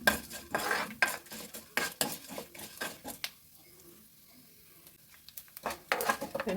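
Rice, urad dal and chopped chillies roasting in a pan, stirred with a utensil in quick bursts of scraping and clinking that pause briefly midway, over a faint frying sizzle.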